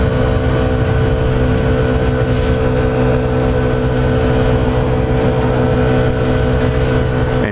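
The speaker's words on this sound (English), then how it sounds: "And today's adventure vehicle is the Honda Ruckus" Honda Ruckus scooter riding on the road, its small engine a constant buzzing drone mixed with steady wind rush, loud and close throughout with no talking.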